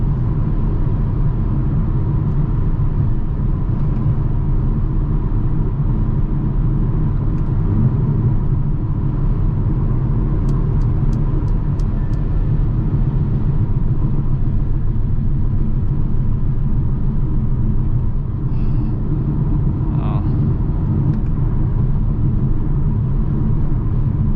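A 2021 Mercedes-AMG GLA 35 SUV driving at night in manual mode, its engine a loud continuous low rumble heard from inside the cabin, with a few faint clicks and chimes over the drone.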